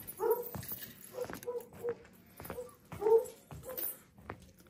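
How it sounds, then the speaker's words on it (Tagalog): Several dogs whimper and let out short yips nearby, coming in irregular bursts with quiet gaps between them. "Mga aso."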